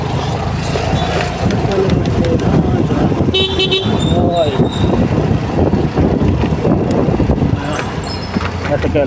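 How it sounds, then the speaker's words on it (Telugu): Busy Sunday street traffic with a continuous rumble of cars and motorbikes, repeated car horns honking at close range, and voices talking over the din. "చాలా ట్రాఫిక్ ఉంది సండే కూడా"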